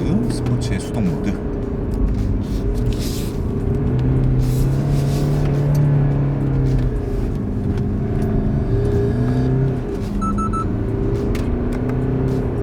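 A 2019 BMW X4 20d M Sport diesel driven in sport manual mode hums steadily from inside the cabin, its engine tone rising and falling with the gears while someone talks over it.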